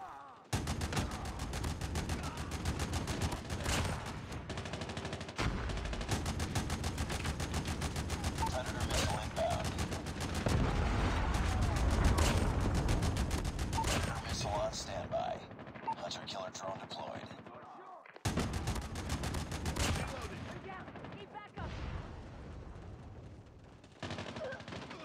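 Rapid turret gunfire in a shooter video game during a beta-test match, sustained bursts of loud shooting almost continuously, briefly breaking off near 18 seconds before resuming; a voice talks over the firing.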